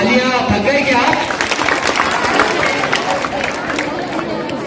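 Applause and crowd chatter fill the room at a school mushaira, clapping scattered and lively beneath a steady murmur of voices.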